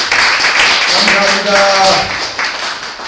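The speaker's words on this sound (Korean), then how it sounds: "우리 박수로 환영해요." A church congregation at a Korean Sunday worship service claps in welcome for a visitor, giving a short burst of close applause while someone speaks briefly over it.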